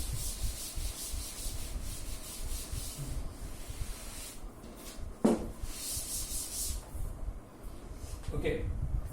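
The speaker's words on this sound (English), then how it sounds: "Now I am going to rub this problem." Rough scrubbing of a maths problem being rubbed off a board, a steady near rasping that continues for several seconds with a knock partway through and a faint voice beneath it.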